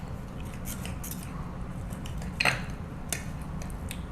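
A knife slicing through the middle of an air-fried ribeye steak, a short scraping crunch of blade on a plate standing out briefly over a steady low background hum, with faint scraping before and after.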